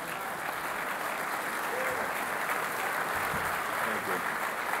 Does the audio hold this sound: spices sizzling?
no